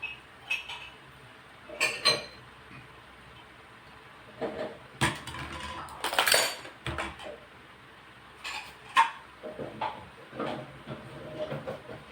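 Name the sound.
dishes and cutlery being put away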